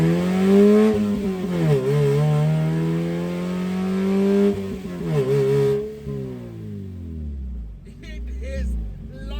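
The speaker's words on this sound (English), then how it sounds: "It is loud in here because the engine is sitting right behind my back." A modified mid-engined Suzuki Swift built for drifting and autocross revs hard, its engine rising and falling through several loud surges heard from inside the cabin with the motor right behind the seat, then easing off and idling near the end.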